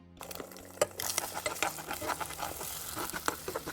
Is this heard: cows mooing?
no